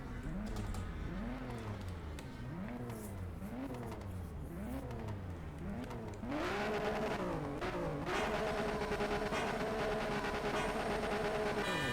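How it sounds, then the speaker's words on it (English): A car engine in a Need for Speed video game revs up and down in a repeating wavering pattern while the car drifts, then settles into a sustained, louder, steady high-revving drone. "if you wanna practice drifting, you can. Check it, then still slide through this wall."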